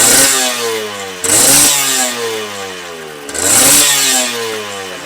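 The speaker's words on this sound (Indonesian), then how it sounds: "Dan beginilah bunyi knalpot dan mesin standar dari Honda NSR." A Honda NSR 150 two-stroke motorcycle with its stock exhaust, revved close up in two sharp blips that each fall back toward a ragged, crackling idle.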